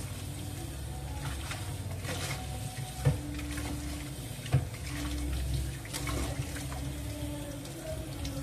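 Washing under water running from a newly replaced kitchen tap, a steady continuous splash and trickle with a couple of faint knocks, fairly close, no talk.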